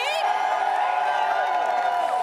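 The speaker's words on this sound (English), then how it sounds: "Can we get some cheering here?" A section of fans cheering at an Apex Legends ALGS Year 4 Split 1 playoffs esports event, a loud sustained wash of crowd voices and whoops that fills the whole moment.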